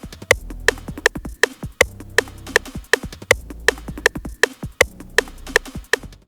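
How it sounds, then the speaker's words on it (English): Sharp, evenly spaced metronome clicks tick steadily, with an accented higher click marking each beat group, over faint low tones. "click this little metronome button here to turn off and on the metronome"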